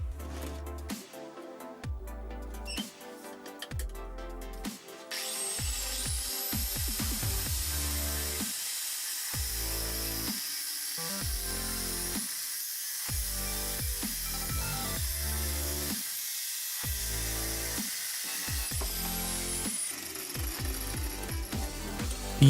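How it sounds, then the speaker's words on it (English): An angle grinder cuts through a marked metal pipe clamped in a vise, a loud, sustained high whine that starts after a few seconds of tool handling and knocks and holds steady until near the end. "Clamp the pipe in a vise and use the grinder to cut the mark."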